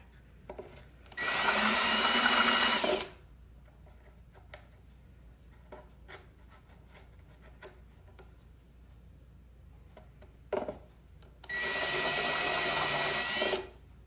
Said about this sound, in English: So I'll finish it up with the proper size drill bit here.